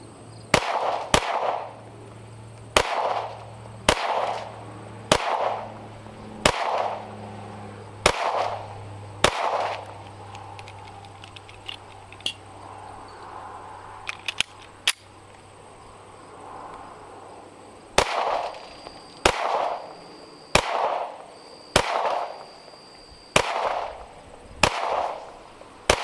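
A 9mm FN 503 Compact pistol fires at three targets in a series of sharp, loud cracks, spaced unevenly, with a pause partway through and a faint steady hum underneath.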